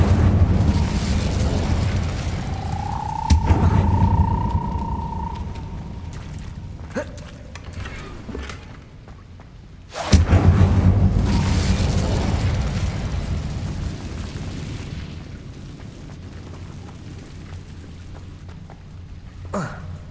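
Incendio fire spell blasts in the video game Hogwarts Legacy, two heavy bursting booms several seconds apart, each trailing into a rumbling roar, with a whooshing magical tone before the first and a shouted voice nearby.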